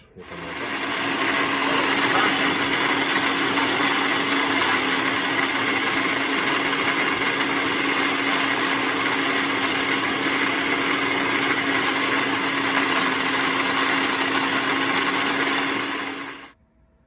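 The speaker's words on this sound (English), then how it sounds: "So I'm gonna throw a couple of handfuls of that into the blender, pulse it" A blender motor runs steadily at high speed for over fifteen seconds, loud and close, pulsing homemade Sculptamold mix, then cuts off abruptly.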